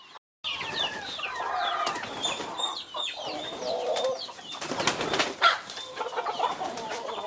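Several free-range indigenous chickens cluck and chatter continuously nearby, overlapping calls with occasional louder squawks, in an open outdoor setting.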